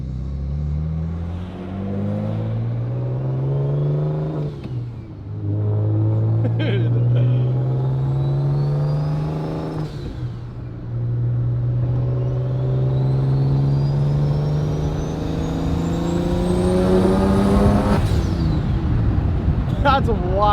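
A single-turbo BMW 335i engine with a T51R turbo revs repeatedly, pitch climbing and dropping in long sweeps, with a high whistling turbo whine rising over the roar; loud and close.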